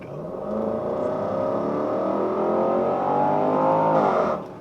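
A Land Rover engine revs up steadily, its pitch climbing as it accelerates for several seconds before easing off at the end; no one speaks.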